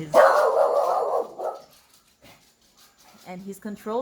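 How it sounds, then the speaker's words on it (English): Dogs barking outdoors at night, a loud sustained burst of barking at first, then quieter scattered yips and barks toward the end. "The dogs are like at it tonight."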